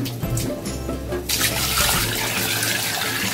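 Water is poured into a pot of beef for Oha soup, a steady splashing gush that rises and thickens partway through, close and fairly loud, with no talking.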